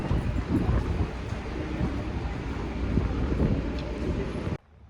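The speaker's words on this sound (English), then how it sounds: "It's windy, so I hope you can hear me." Strong outdoor wind buffets a microphone with a constant low rumble and gusty swells for several seconds before cutting off abruptly, with no clear voices.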